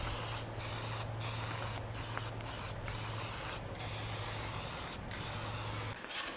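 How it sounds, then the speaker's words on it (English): Aerosol spray polyurethane being sprayed in coats onto a routered wooden sign, a steady continuous hiss with several brief pauses between passes, close and fairly even in loudness. "And to finish it off, I sprayed some coats of spray polyurethane."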